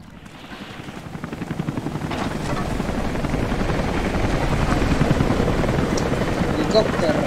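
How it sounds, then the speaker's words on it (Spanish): A helicopter in the video game Rise of the Tomb Raider thuds with steady rotor chop that swells from moderate to loud as it draws closer, its rhythmic beating continuing throughout while voices speak over the noise. "Helicóptero."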